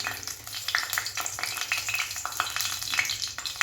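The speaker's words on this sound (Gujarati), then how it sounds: "આ બાજુ આપણું તેલ પણ મૂકી દીધું છે આપણે। તજ લવિંગ નાખી દઈશું, સૂકા મરચાં," Whole cinnamon, cloves and dried red chillies sizzle and crackle steadily in hot oil for a Gujarati tuver totha curry, a close, dense frying hiss with small pops throughout and no talking.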